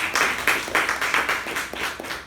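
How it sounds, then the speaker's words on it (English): A meeting audience gives a round of applause, with steady, fairly loud clapping from a group that holds an even rhythm for a couple of seconds and then thins out slightly toward the end. "let's give her a round of applause"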